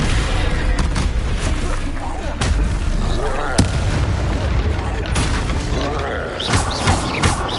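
Descendo spell impacts in the Hogwarts Legacy video game, heavy booming slams and crashes repeating irregularly amid loud combat effects and rumbling.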